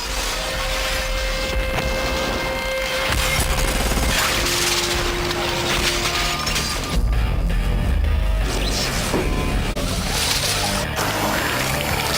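Glass exploding outward in an expanding ring as a practical film special effect, heard as a long, loud, dense crash and shattering roar with heavy low rumble, swelling again midway and continuing throughout.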